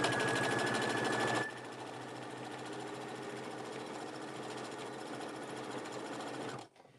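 A sewing machine runs steadily for about six seconds, stitching down the edges of a craft bag with back-and-forth passes; the motor hum is loud and close, slightly louder at the start, then cuts off abruptly.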